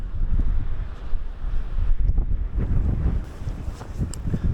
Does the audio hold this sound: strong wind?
yes